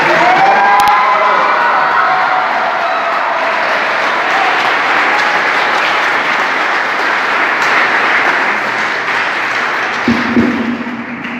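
A school audience gives a sustained round of applause for a student speaker at a youth speaking event in Chuuk, dense and steady clapping with some cheering throughout, briefly louder near the end.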